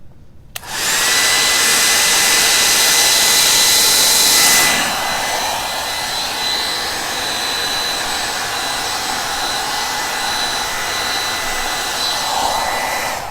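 A blower switches on abruptly and roars loudly and steadily close by, pushing acrylic paint across a Dutch pour, then eases to a slightly softer continuous whoosh for the rest of the time.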